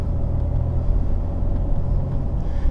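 Steady low engine rumble and road noise from a Jeep Cherokee Sport XJ with a new AC compressor, heard from inside while it is driven on a short test drive; continuous and fairly loud, with no talking.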